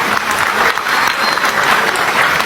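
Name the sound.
audience applause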